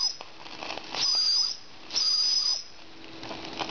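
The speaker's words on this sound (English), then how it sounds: "Just check to see if the whistle works." The whistle on a Fleischmann toy steam roller sounds twice, two steady, high-pitched, breathy toots of about half a second each over a continuous soft steam hiss.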